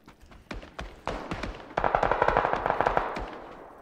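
Rapid bursts of P90 submachine gun fire in the battle royale game PUBG, starting as sparse separate shots and building into dense sustained automatic volleys, loud and close.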